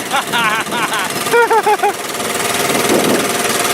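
A Honda quad ATV engine cranks with a sputtering catch and settles into a steady mid-pitched idle, heard close, with people talking over the start.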